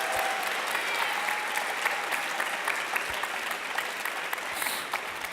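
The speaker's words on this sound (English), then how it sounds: "Let's have a big round of applause for you guys." Steady applause from a crowd at a live League 10-year anniversary event in Europe, continuous clapping with a few sharper individual claps standing out, fairly even throughout.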